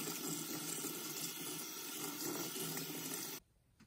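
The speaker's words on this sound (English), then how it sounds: "I still need to rinse it a little bit, so I'll go ahead and do that" Tap water running into a sink while a baby carrier wrap is rinsed by hand, a steady close splashing rush that cuts off abruptly near the end, leaving quiet room tone.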